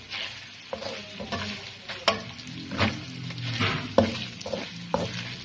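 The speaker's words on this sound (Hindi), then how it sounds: "अब इसको इस पुदीने के अंदर अच्छे तरीके से हम भून लेंगे" Tripe stirred and fried with finely chopped mint in a pan, a steady close sizzle broken by repeated clattering stirs and scrapes, with no talking.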